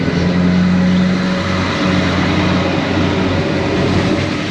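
An Adelaide 3000 class hybrid suburban train, mostly diesel-powered, passes close by with a loud, steady engine drone and rolling wheel noise that holds for several seconds.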